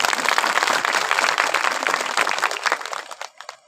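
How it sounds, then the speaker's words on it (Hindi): A Christmas meeting crowd in a hall applauds a village sarpanch, dense broadband clapping filling the space loudly for several seconds before thinning out and fading near the end. "ताली बजाओ इनके लिए।"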